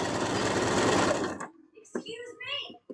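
A sewing machine stitches a plush leaf onto the tails of a goofy Snivy-inspired plush, a loud continuous motor whir for about a second and a half, then stopping as soft handling noises and brief faint sounds follow.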